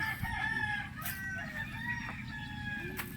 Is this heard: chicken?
yes